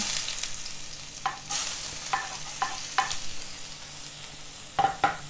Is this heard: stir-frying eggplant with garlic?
yes